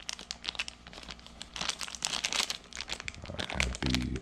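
Plastic bag holding European car keys, including a Porsche key, crinkles and rustles in continuous close handling, with a brief muffled thump near the end.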